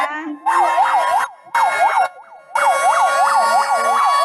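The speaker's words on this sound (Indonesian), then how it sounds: "Yuk lihat pemadam kebakarannya." A fire engine siren wails loudly and close in three bursts, its rising and falling tone cycling rapidly, separated by short gaps.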